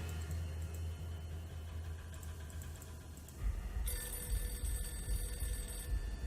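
A telephone rings in the Nancy Drew game The Final Scene. A steady, repeating electronic ring sits over a dense low background. Partway through, the ring turns brighter and more tonal.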